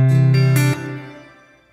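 Acoustic guitar through a reverb with its mix turned back to midway, giving a shorter decay: a few quick strums ring out close and clear, then stop, with a brief reverb tail fading within a second.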